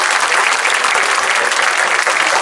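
A comedy show audience bursts into steady, dense applause, loud and continuous for the whole stretch with no voices over it.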